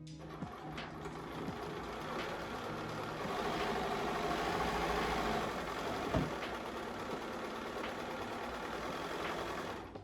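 A sewing machine runs continuously as it stitches fabric for a scrunchie, a fairly quiet mechanical hum with a rapid needle rhythm and occasional light clicks and knocks.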